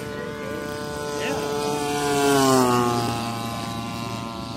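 A propeller aircraft engine drones steadily at less than half throttle in flight, its pitch shifting slightly as it grows louder and then recedes. Faint voices can be heard underneath.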